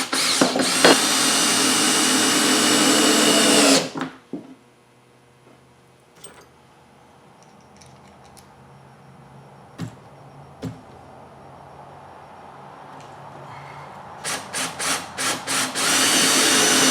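A power drill drives screws to mount a 6-inch Harbor Freight bench grinder, buzzing loudly and steadily for about four seconds, then falling quiet before a few short bursts and a closing run of rapid drill whirs.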